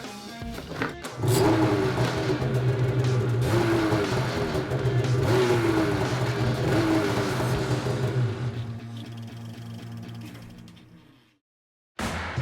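A snowmobile fitted with a high-quality aftermarket exhaust roars loud and close, its engine holding a strong, steady drone with rising pitch sweeps as it revs, then dies away into a brief silence before the sound cuts back in.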